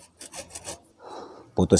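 Scissors, used in place of a small saw, grind and rasp through a woody bonsai stem in short, close bursts with pauses between cuts.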